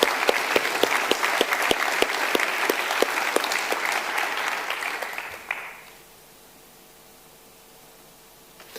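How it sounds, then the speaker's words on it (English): Clapping from an audience at an awards ceremony greets the nominees, sustained and fairly loud with sharp individual claps standing out, then fading out abruptly after about five seconds into near silence. "let's give all of our nominees a big round of applause"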